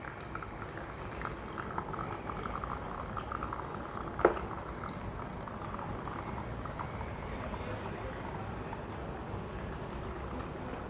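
Water drains inside a HICON HZB-20F ice maker, a soft continuous bubbling and trickling with faint gurgles and a single small click, heard quietly and alone.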